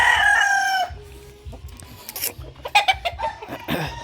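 A rooster crows loudly and nearby, followed by scattered clucks and chicken calls from the flock.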